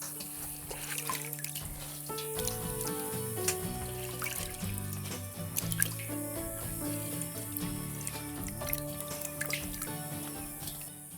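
Sweet potato leaves being washed in a basin of water, soft sloshing and dripping splashes scattered throughout, close and moderately quiet beneath a faint musical background.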